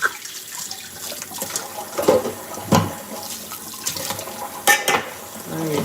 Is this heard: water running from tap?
yes